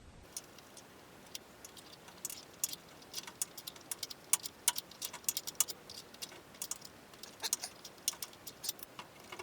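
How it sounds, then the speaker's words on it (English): Light rain falling outside in the middle of the night during undercarriage repairs on a Nissan Z32 300ZX twin turbo: sparse, irregular soft ticks and patters over a faint, steady hiss, with no voices. "sounds like I can hear a bit of rain outside"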